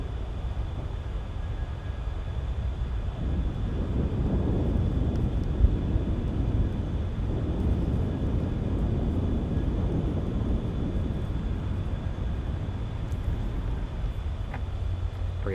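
C-17 military transport plane taking off at Charlotte Douglas Airport, a sustained distant jet roar that swells gradually and holds steadily throughout, no talk over it.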